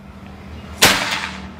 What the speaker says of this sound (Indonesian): Ini tembakan yang terakhir ya Sobat Bedilers.